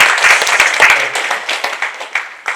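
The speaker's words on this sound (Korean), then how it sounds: "여러분 박수 한번 주십시오." An audience at a public briefing meeting on a lead smelting plant in Yeongju gives a short burst of brisk applause, lively scattered clapping that thins out toward the end.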